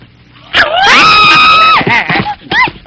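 A dog gives a loud, drawn-out cry that rises, holds and then breaks into shorter yelps and whimpers, close by and with no talk over it.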